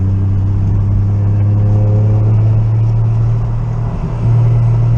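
A big-turbo Lexus GS300 drives along with a loud, steady droning engine note and deep low hum from inside the car, its pitch shifting slightly near the end as the load changes.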